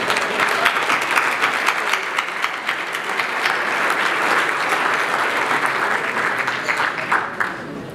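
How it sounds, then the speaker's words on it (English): Warm applause from the audience at a cyber security hall of fame ceremony, dense steady clapping from a full room that holds for about eight seconds before easing slightly at the end. "let's give him a very warm round of applause"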